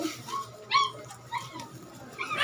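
A dog whimpers and gives a few short, high yips, close by and fairly quiet, in a small indoor space.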